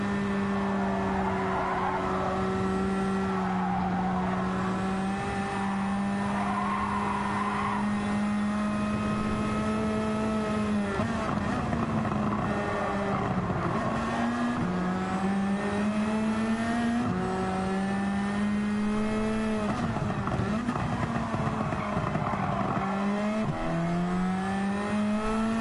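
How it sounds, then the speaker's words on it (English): Toyota and Porsche race cars roar together in a racing game, engines revving and shifting through gears in steady rising pitch sweeps, loud and sustained, with tyre noise beneath. "huge smoke coming from that Toyota there as he just squeezes his way through the middle of us in the Porsche"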